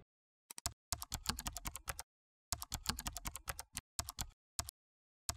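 Code is typed on a computer keyboard: close, crisp key clicks in quick bursts, separated by short pauses, with a few isolated taps near the end.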